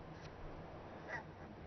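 Geese perched high up in the Nordic wild call while taunting a fox below, a few faint, distant honks rising briefly over a steady outdoor hiss.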